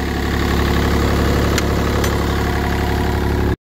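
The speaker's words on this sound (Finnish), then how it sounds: "Moottori siellä ryskyttää." Diesel engine of a Sunward SWE35UF mini excavator idling close by, a loud steady low rumble with rhythmic knocking that runs without a break, then cuts off abruptly at the end.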